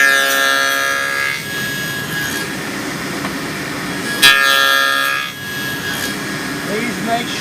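A power saw cuts through wood for a box, with two loud bursts of whining, rasping cutting separated by a steadier running hum. The sound is close and continuous.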